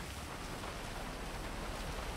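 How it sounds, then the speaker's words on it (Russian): Rain falls in the GTA 5 game world as a faint, steady hiss of drops, soft and even throughout with no voices. "Да-да, дождь на улице."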